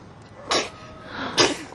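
Two sharp sneezes from a person outdoors in a yard, close and fairly loud, spaced about a second apart over a quiet background.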